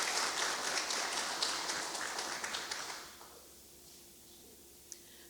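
Audience applause at a solemn diploma ceremony in a municipal chamber, a dense patter of clapping for about three seconds that then stops, leaving a quiet room with a faint hum.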